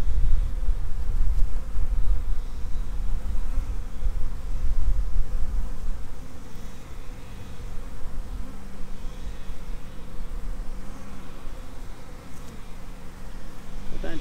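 Honeybees buzz densely on a brood frame during a hive inspection, a constant close droning hum from many bees with no break.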